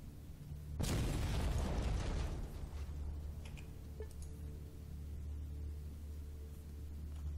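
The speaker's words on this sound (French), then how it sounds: "Donc on va mettre les explosifs et on va voir ce que c'est." Explosives detonating in the video game ATOM RPG, a single loud boom with a sustained rumbling blast that decays over a couple of seconds, leaving a low steady game ambience and a few faint mechanical clicks.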